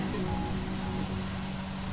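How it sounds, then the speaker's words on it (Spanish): Steady rain falls throughout, an even hiss of drops spread across the whole sound with no pauses and no voices. "no sé si escuchan el ruido de la lluvia"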